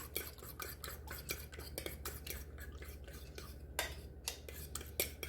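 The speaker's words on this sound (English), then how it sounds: "I added 1 more egg. Let me go ahead and beat that in real quick." A whisk or fork clinks repeatedly against a bowl as an extra egg is beaten into a thin vanilla-cinnamon French toast custard, in quick, steady strokes close by over a low kitchen hum.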